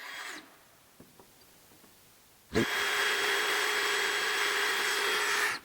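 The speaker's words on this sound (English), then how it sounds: "So all we're doing right now is drilling the hole, get a good mark." A power drill bores a hole during a RoadMaster suspension install, a steady loud whirring that starts abruptly about midway and runs continuously to the end, after a quiet stretch with a few faint clicks.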